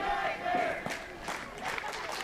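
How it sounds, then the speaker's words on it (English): A wrestling crowd roars and yells steadily in support of the wrestler Celtic Nightmare, a dense arena din with rising shouts and no clear pauses. "Crowd's very much behind Celtic Nightmare right now"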